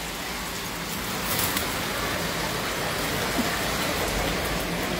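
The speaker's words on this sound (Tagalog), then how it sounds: "Lakas ng ulan." Steady, dense rain pours down in a continuous broadband hiss, loud and unbroken throughout.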